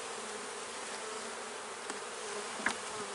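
Steady, dense buzzing of many honey bees at an open hive during inspection, fairly close and continuous, with a couple of brief louder passes near the end.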